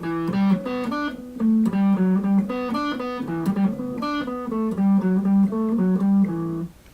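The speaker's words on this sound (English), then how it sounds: "Now what the lead guitar plays is, it's gonna sound like this." A lead guitar part from a song is played alone: a steady, ringing line of clear single notes moving in a repeating melodic pattern, close and moderately loud, with no voice over it.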